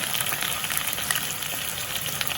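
Dried red chilies, onions and green chilies fry in oil for sambar, giving a dense, continuous, loud sizzle that crackles evenly close by with no voices.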